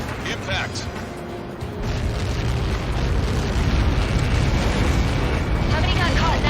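A massive explosion in the combat flight game Ace Combat 7 swells into a deep, building roar that grows louder and fills the scene, with voices talking over it.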